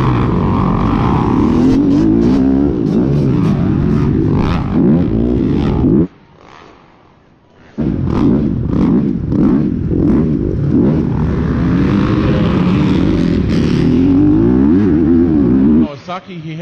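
A pack of arenacross motorcycles roars off the starting gate at a race start, engines loud and revving hard together, dropping briefly before surging again, with an announcer talking over the noise.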